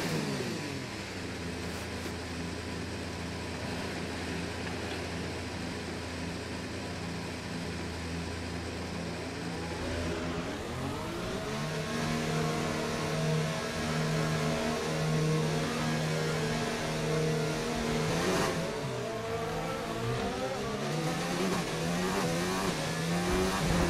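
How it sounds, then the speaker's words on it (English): A race car engine revs and accelerates during qualifying at the Belgian circuit, a steady loud drone with rising and falling pitch sweeps as it shifts through gears, heard alone. "Engine fired, we're set."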